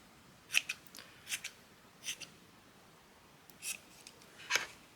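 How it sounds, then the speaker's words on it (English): Scissors snip paper into small pieces for shabby chic journal toppers, giving several short, crisp cuts close by at an uneven rhythm with no talking. "Let's just cut a little piece off."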